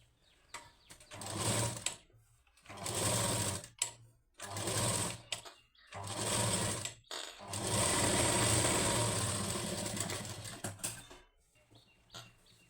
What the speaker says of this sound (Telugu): లైనింగ్ చుట్టూన స్టిచ్ వేసుకోవాలి